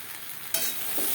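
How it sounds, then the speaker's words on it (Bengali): Potato and pointed gourd frying in a pan, heard as a quiet steady hiss that jumps louder midway, as if stirred, with no talking. "আলু পটল হালকা করে ভাজা হয়ে গেছে"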